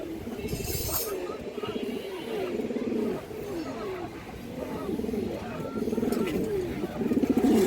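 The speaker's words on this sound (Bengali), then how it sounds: "একদম পিওর জোড়া রাগা কবুতর আছে মাসাল্লাহ সিলুর রাগা কবুতর খুবই সুন্দর একটা পেয়ার" Pure-bred Raga pigeons, a breeding pair at a pigeon farm, coo in low repeated throaty bursts through the whole stretch, close and steady amid other birds in the background.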